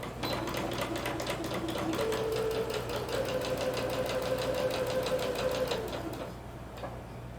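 Sewing machine running a seam on a skirt, a steady fast mechanical stitching rhythm with a brief pause and then a second run before it slows to a stop, close and with no talk.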